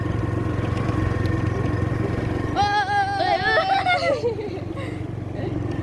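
A motorcycle engine droning steadily while riding home on a road, with a constant low hum throughout and a voice talking over it briefly midway.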